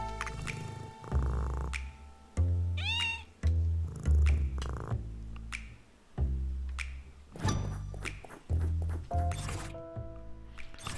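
Game sound effects for a missing cat in the video game Wolfstride play as a sequence of short, loud, tonal bursts over the game's background music, with no talk.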